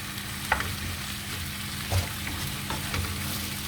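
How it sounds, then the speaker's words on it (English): Ketchup fries with spices in a pan for a chicken karahi, a continuous close sizzle and crackle with a few soft stirring knocks scattered through it, no voices. "I would like to fry this ketchup with the spices"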